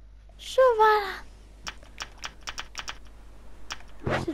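Computer keyboard keys and a mouse click in a rapid, irregular run of sharp taps. A voice is heard briefly before the typing and again at the end.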